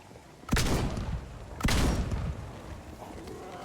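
Gunfire in the video game Project Zomboid: two loud, sharp shots about a second apart, each followed by a short decaying rumble, with quieter ambience between and no talk.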